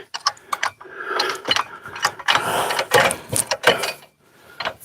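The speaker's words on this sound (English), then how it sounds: "I'll get a wrench that fits the other end of that socket like I was telling you" Ratchet wrench cranking a socket while pulling the engine and transmission from a 1968 Thunderbird, a run of sharp close clicking bursts in irregular quick spurts over a few seconds.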